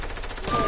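Video game gunfire bursts out in a short, loud, rapid volley, layered with busy game noise and a faint tone.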